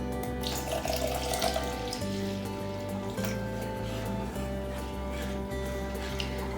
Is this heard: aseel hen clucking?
no